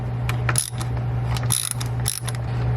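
A ratchet clicks in short uneven bursts while a T25 bolt is backed out of the engine cooler on a BMW E90 328i with the N52 engine, close up, over a steady low hum and with no talk.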